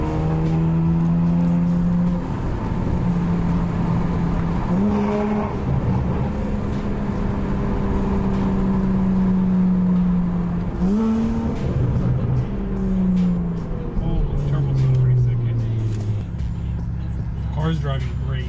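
A BMW 335is fitted with a Stage 2+ turbo kit drives under load, its engine tone rising and falling through several gear changes, loud and close from inside the car. People talk over it.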